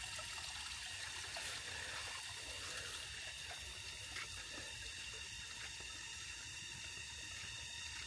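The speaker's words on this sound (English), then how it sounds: "I can hear running water." Fresh mountain stream running on an island, a faint continuous rush and trickle of flowing water heard steadily from a distance, with no voices.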